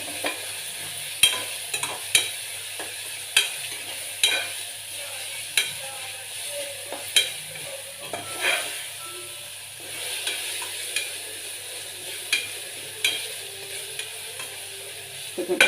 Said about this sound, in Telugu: దీనిలోకి ఇప్పుడు ఇది అల్లం వెల్లుల్లి మసాలా అంతా, అల్లం వెల్లుల్లి, చెక్క, లవంగ, పుదీనా, కొత్తిమీర పేస్ట్,